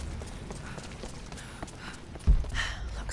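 Hooves clip-clop on the ground from a horse in the video game Rise of the Tomb Raider, a soft steady patter against ambient game sound, ending in a louder thud and rustle.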